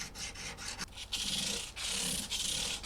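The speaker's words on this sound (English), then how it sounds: "Back to the diamond grit file along the length of each fret to get rid of all of the sandpaper scratches" Diamond grit file rubbing lengthwise along the frets of a 1956 Gibson ES-125 guitar: close, continuous scraping strokes with short breaks between passes, no voices.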